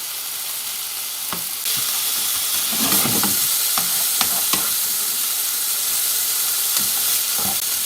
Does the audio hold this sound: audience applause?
no